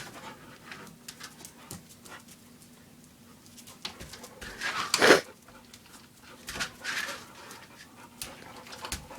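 An excited pet dog pants eagerly while chasing a laser pointer indoors, quick rhythmic breaths close by with a louder burst midway, and a bird cooing faintly in the background.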